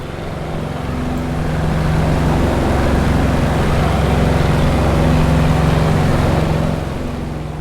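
Vought FG-1D Corsair piston engine and propeller in Microsoft Flight Simulator, a steady loud drone with a low throbbing hum that swells slightly after takeoff and holds constant, with no talking.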